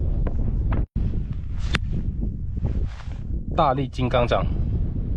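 Strong winter wind buffets the microphone in Xinjiang, a constant rough roar with a brief dropout, while someone talks over it.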